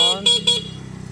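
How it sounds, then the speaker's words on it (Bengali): Yamaha RX 100 motorcycle sounds two short, bright horn toots in quick succession, close and loud, followed by the engine idling with a steady low putter. "হর্ন"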